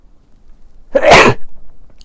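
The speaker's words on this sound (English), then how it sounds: "I'm probably gonna sneeze." A single loud sneeze bursts out close to the mic after a quiet lead-in, with a brief trailing breath and no talking.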